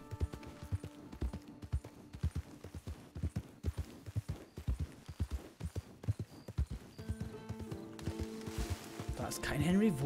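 Horse hooves clip-clop steadily in Red Dead Redemption 2, a close, regular gait with louder rhythmic footfalls under game ambience, and a rising swell of other sound toward the end.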